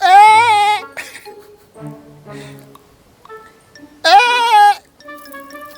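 A single goat bleats loudly and close by in a rural country setting, two drawn-out wavering cries separated by a few seconds, with faint voices and other small sounds in between.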